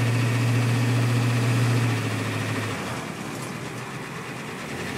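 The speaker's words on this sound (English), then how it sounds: "Great diesel engine." A 7.3L IDI diesel idles in a 1989 Ford E-350, a steady low rumble that drops to a softer, lower idle about two seconds in, with no talking.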